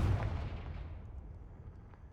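A Confringo fire spell explodes in the Hogwarts Legacy video game, a loud low booming blast at the start that rumbles and fades away over about two seconds.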